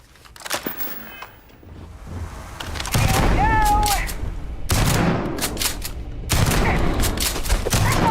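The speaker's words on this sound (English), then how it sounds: "Prime example of when a shotgun comes into play." Shotgun blasts in the video game Starfield, several loud, close booming shots in separate bursts, each followed by a short decay, with a voice talking briefly between them.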